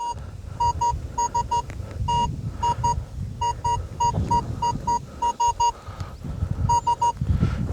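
Repeated electronic beeping tones from a metal detector over a shallow surface signal in a field, short pulses in uneven bursts over low rumbling ground and handling noise.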